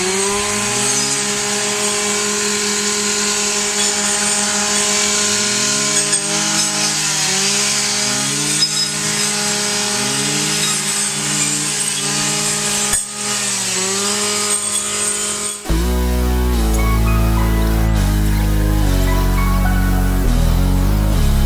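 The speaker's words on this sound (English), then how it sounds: "We go in with brush cutters and chainsaws and we cut out all the buckthorn and invasive species" Chainsaws and brush cutters cut invasive buckthorn out of a prairie with a loud, continuous motor whine whose pitch rises and falls with the revs, then shifts to a heavier, deeper tone near the end.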